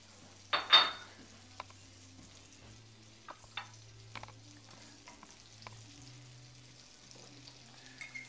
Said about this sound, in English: We have about 4 ounces of sliced mushrooms. Put them all in at once. We'll let those saute for a while.